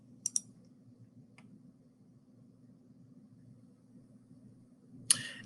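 A computer mouse clicks sharply, twice in quick succession near the start, once faintly in the middle, and once more near the end, each close and isolated against a low steady hum.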